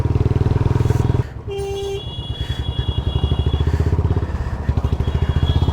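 A 3.5–4-year-old Royal Enfield Bullet Classic 350 rides along with its single-cylinder engine thumping in a steady, loud, close rhythm, with a brief shift in tone as it keeps pulling down the road.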